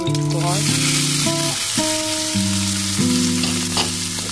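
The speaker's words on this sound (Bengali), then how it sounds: "বাটারের সাথে আমি সুইট কর্নটা ভালো করে মিশিয়ে নিচ্ছি" Sweet corn kernels sautéing and being stirred in butter in a pan, producing a steady close sizzle, with music playing over it throughout.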